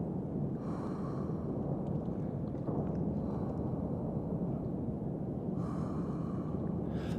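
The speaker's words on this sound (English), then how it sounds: "They had the character actually breathing." Heavy breathing from a character in the cold, steamy world of Cryostasis: Sleep of Reason: slow, rasping breaths repeat at intervals over a low, rumbling ambient hum, with no talking.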